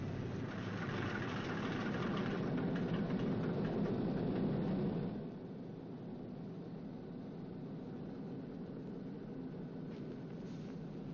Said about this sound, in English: That's a new engine they just put in there. Maybe it's a little bit cranky.